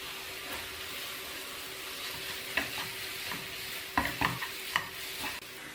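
Mashed banana and grated coconut are stirred in a pan, giving a soft continuous sizzle with several sharper scraping clicks of the spoon toward the end, close and fairly quiet, no talk.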